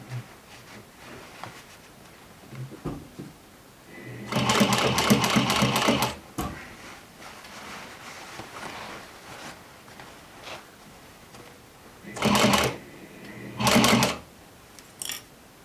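A sewing machine stitches a jeans seam in bursts: one long run of about two seconds, then two shorter runs later, loud and close, with quiet handling noise between them and no talk.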